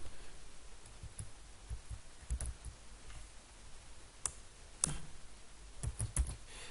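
Scattered keystrokes and mouse-style clicks at a computer desk, faint and irregular, a few sharper taps standing out against a quiet low hum, with no one speaking.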